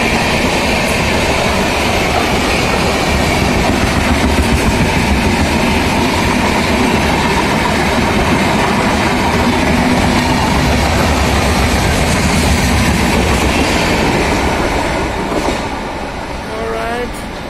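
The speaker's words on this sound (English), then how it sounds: "And there goes the Duronto, overtaking us royally." Yesvantpur Duronto express train overtaking a Karnataka Sampark Kranti passenger train, a loud continuous roar and rattle of wheels and coaches passing close by, tapering off near the end.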